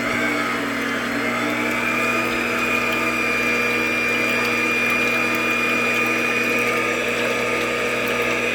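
An electric stand mixer fitted with a whipping attachment runs at medium speed for a mermaid cake, a loud steady motor whir with an even hum and no variation, alone without voices.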